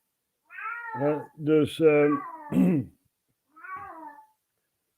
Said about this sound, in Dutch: hoor de kat zingen